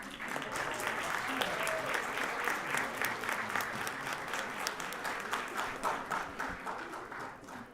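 An audience at a Fort Worth ISD school board meeting in May 2024 gives sustained applause. The clapping is continuous and fairly even for several seconds, with a few voices mixed into the crowd.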